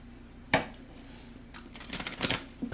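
Oracle cards being shuffled close by, a sharp snap followed after a pause by a soft, riffling run of card sounds over a faint steady hum.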